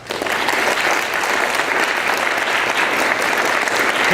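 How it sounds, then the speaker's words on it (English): Close, loud applause from an audience at a talk on producing rises quickly into a dense, even clatter of many hands and holds steady throughout, with no voices over it. "Let's give him a round of applause"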